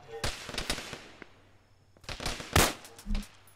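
Gunfire in the Arma video game: scattered sharp shots in short bursts, some single cracks and a few closer loud reports, with quieter gaps between.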